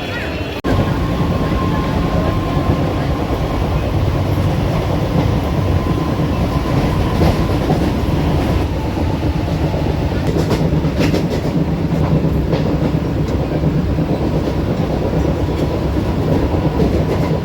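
Inside a moving passenger train near Karjat, India: low rumbling drone with rhythmic rattling of wheels on track, steady throughout, faint clatter and occasional squeaks.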